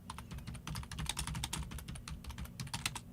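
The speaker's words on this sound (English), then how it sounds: "I'm going to try typing in general." Steady, quick clicking of keys on a computer keyboard, close by and fairly quiet, with no voices.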